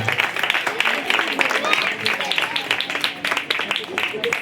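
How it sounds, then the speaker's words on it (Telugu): A church congregation at a Christmas gathering applauding, dense rapid clapping throughout, loud and close, fading out at the end. "Big claps."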